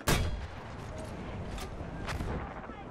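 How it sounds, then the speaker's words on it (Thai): Mortar fire in the video game Battlefield 1, Conquest mode: a sharp launch thump at the start, then fainter distant blasts over a steady rumbling battlefield bed. "เอามอท่ามายิงนี่แหละ"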